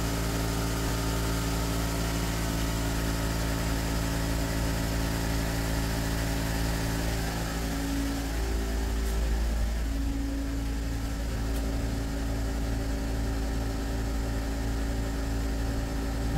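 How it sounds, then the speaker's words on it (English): A Mercedes with an Airmatic air suspension being repaired idles steadily while its air pump runs, a constant low hum and drone that shifts partway through into a slightly pulsing mechanical whir, with no speech. "Okay, let's start up the car. The pump is working"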